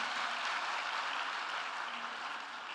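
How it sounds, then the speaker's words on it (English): A conference audience at Ghana Digital & Innovation Week 2024 claps in a dense, steady wash of applause that fades slightly toward the end. "Please give yourselves a resounding round of applause."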